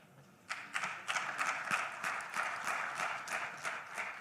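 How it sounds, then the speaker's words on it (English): An audience at an anesthesia congress in Rwanda breaks into steady applause after a presentation. The clapping starts abruptly and stays moderately loud and sustained, with no voices over it. "A big applause again to Dr. Sarau."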